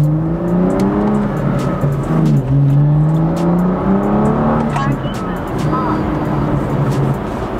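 A BMW F87 M2 engine revs with a deep, throaty exhaust tone, loud and close, its pitch rising and falling in sustained pulls with a steady rumble underneath.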